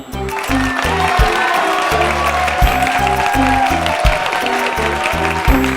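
Audience clapping welcomes a Bharatanatyam dancer at a stage performance, a steady spread of claps heard beneath loud rhythmic music.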